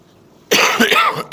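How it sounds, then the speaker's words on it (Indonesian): A man gives a few harsh, close coughs in quick succession indoors, the bursts loud and clearly separated by a brief pause, with no speech. "batuknya masih tersisa ini, belum clear semuanya"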